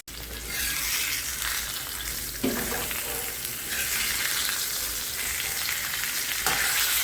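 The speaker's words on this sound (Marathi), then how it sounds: "बारीक गॅसवर आपण तळून घेऊ. गॅस नाही मोठा करायचा." Bangda (mackerel) pieces fry in oil in a pan over a low flame, giving a steady, close, dense sizzle with small shifts in intensity and no talking.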